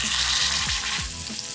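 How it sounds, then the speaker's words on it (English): Filet mignon sizzles in hot grapeseed oil in a large pan, a steady loud crackling fry with a few scraping stirs, no voices. "Once I put the filet in there, if it doesn't sizzle, that pan is not ready."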